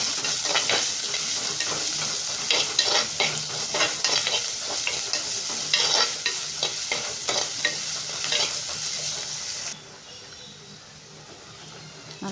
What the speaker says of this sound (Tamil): வெங்காயம் நல்லா கொஞ்சம் கலர் சேஞ்ச் ஆகிறது வரைக்கும் வதக்கிக்கோங்க.